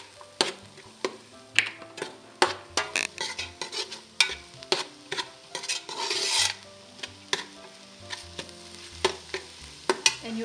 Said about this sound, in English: you go ahead and add in your ginger garlic. Fry it for a couple of minutes.